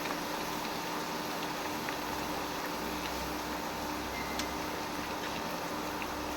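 Ingredients for an onion-free mango pickle sauté in hot oil over a lowered flame, producing a steady, soft hiss and sizzle with faint crackles that continues evenly throughout, with no voices.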